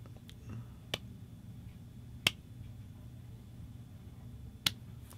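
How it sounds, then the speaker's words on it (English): Three sharp, isolated claps spaced well apart in a quiet room, slow and deliberate, with faint low background hum between them. "Slow clap."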